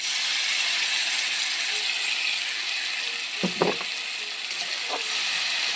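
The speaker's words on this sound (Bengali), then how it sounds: "মশলাটা দিয়ে একটু ভালো করে কষিয়ে নেব" Ground spice paste cooking in a pan with a low, even sizzle and a couple of brief stirring knocks near the middle, heard close with no voices.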